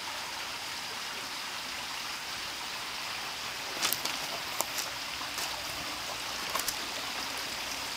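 Water flowing in a garden pond's stream, a soft, constant trickling wash heard close but quiet, with a few faint clicks and splashes midway.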